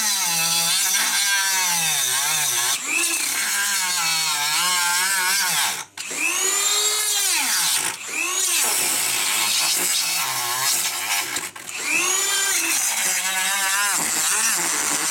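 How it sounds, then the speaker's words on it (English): A small Dremel rotary tool cuts a kickstand pad for a DR650 motorcycle, whining loudly and close with a sliding pitch that rises and falls as it bites in, pausing briefly a few times. "All right guys, so I've got the little Dremel."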